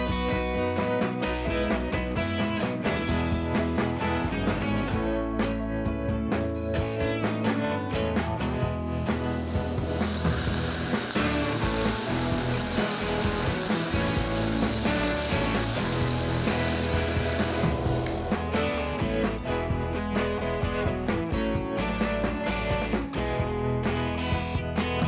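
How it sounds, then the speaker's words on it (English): Power drill boring bolt holes and a center hole in a sprocket flange for a Honda ATC three-wheeler conversion, giving loud, continuous grinding with rhythmic mechanical chatter and a sharper high whine partway through. "Here I'm drilling out the bolt holes and the center hole for the sprocket flange."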